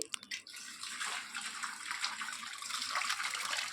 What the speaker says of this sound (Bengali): চিংড়ি মাছটা এখন আমি ধুয়ে নিচ্ছি।